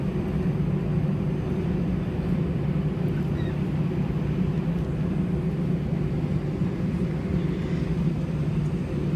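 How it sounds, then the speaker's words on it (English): Inside the cabin of a Lufthansa Airbus A320-211 airliner taking off from London Heathrow, a loud, steady low engine roar holds constant throughout with no talk over it. "Okay, so prepare for takeoff."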